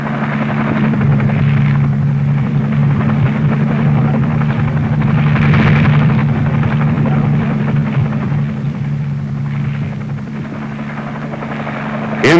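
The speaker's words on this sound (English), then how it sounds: "Helicopters took the weapon and its crew on various airborne missions." A military transport helicopter carrying a Little John rocket and its crew drones loudly overhead in flight, a steady throbbing rotor hum that holds for the whole stretch with no talk.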